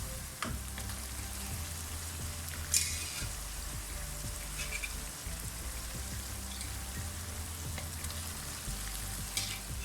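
Beef pieces from yakhni stock added to roasted masala for Hyderabadi beef biryani, giving a steady close sizzle and frying hiss with occasional stirring scrapes and clatter, no talking.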